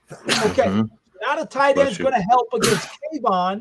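A person sneezes once, a sharp, close burst partway through a live sports talk show, between stretches of conversation.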